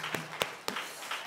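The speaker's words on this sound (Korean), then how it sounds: "우리 힘차게 격려해 박수" A church congregation breaks into applause, a few sharp, scattered claps standing out above a softer, thin patter of hands, brief and close.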